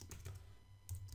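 Website details being entered on a computer keyboard, heard as a few quick, faint key taps in two short clusters over a low background hum.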